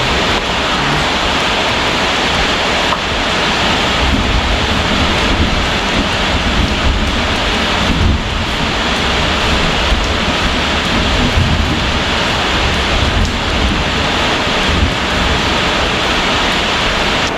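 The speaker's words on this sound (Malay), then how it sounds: "sudah hujan." Rain falls hard and steadily, a loud, unbroken roar with faint low rumbles running through it and no one speaking.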